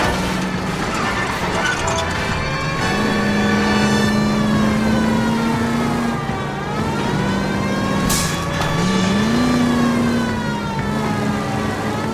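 Car engine in a chase after a stolen green Kaiser Frazer in L.A. Noire, a loud continuous engine drone that rises and falls in pitch as it revs, with a siren-like wail over it and voices underneath.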